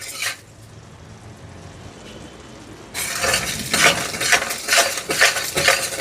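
Sugar syrup for Dharwad peda boils in a pan while being stirred: a quiet opening, then loud, uneven bursts of bubbling and scraping close by.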